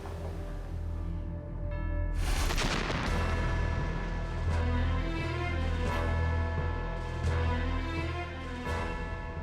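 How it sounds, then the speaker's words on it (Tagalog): A sudden loud blast bursts out after a quiet start, followed by rumbling and several sharper booms echoing across the rest of the clip. "Ano yung sumabog?"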